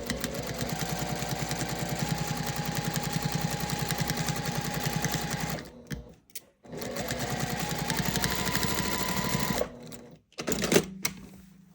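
A sewing machine stitches the side seam of a quilted gift bag in two steady, close-up runs of rapid mechanical chatter, with a short pause between them and a brief stop near the end.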